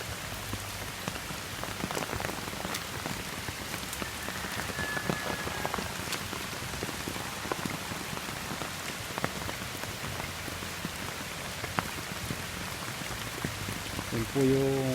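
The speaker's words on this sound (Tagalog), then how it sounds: "Sobra pong lakas ng ulan dito sa amin." Heavy rain pours down steadily in San Julian, Samar, a dense, constant hiss of drops drumming on surfaces during flooding, with occasional faint voices underneath.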